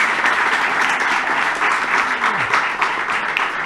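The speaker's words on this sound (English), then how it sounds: "we deserve a big round of applause for that" An audience at an evening of music and song in The Miller's Inn, Bunnanadden, claps loudly and steadily, a close, continuous burst of applause with a faint voice briefly underneath.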